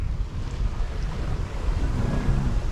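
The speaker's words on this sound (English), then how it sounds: "The wind piped up." On a sailboat at sea the wind rises, and a loud, continuous rush of wind buffets the microphone while waves wash against the hull underneath.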